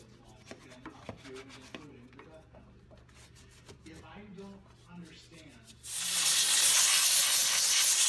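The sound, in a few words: steam cleaner blowing grime out of car wheel well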